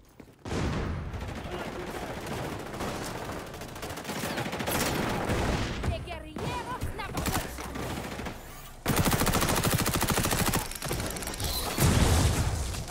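Gunfire in the shooter game XDefiant crackles in loud, rapid automatic bursts broken by brief gaps and mechanical clicks, the shots fairly close and sharp.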